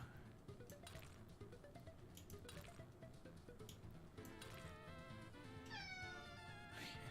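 A cat meows repeatedly over steady background music during a Workers & Resources: Soviet Republic game stream, the pitched cries clearest in the second half with a couple of longer rising and falling calls.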